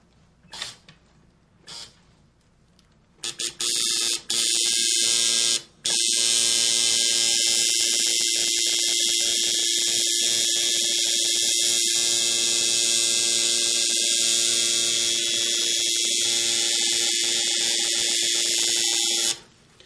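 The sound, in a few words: tattoo machine buzzing while drawing a line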